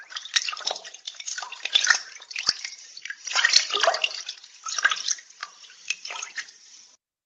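Water trickling and splashing in a rocky creek, irregular bubbling drips and gurgles coming in uneven bursts, fairly close and clear with no talk.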